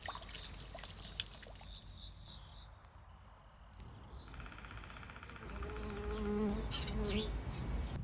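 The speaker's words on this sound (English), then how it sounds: "This is the sound of my garden." Quiet garden ambience with insects buzzing nearby, a soft droning hum that swells and fades, joined by faint chirps and small background rustles.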